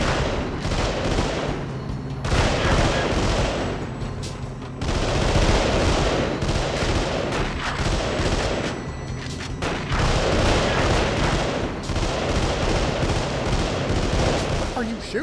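Sustained gunfire from the video game Delta Force: Black Hawk Down, with loud, dense bursts of automatic fire and booming shots almost continuously for fifteen seconds, broken by brief lulls.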